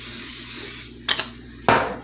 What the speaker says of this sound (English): We're going to spray this pan